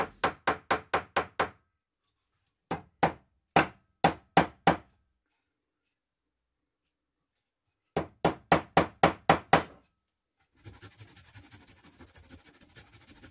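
A hammer drives wooden plugs into screw holes in a garden stool, striking in quick, sharp groups of four to seven blows with silent gaps between, followed by softer scraping taps.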